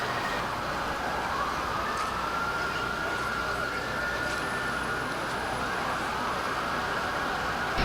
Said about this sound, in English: sirens everywhere